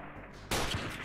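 A single sharp gunshot in the Freeman Guerrilla Warfare video game, fired during a long-range sniper fight, bursts in loud and close after a quiet stretch and then trails off as a lingering rumble.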